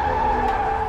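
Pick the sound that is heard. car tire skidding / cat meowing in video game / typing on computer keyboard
car tire skidding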